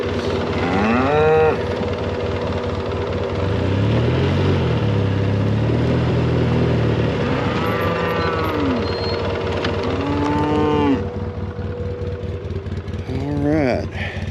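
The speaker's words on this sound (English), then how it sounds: "Go take care of these cows." Cows mooing repeatedly on a farm, several long drawn-out calls at close to mid range over a steady engine-like rumble, with a cow's voice rising and falling throughout.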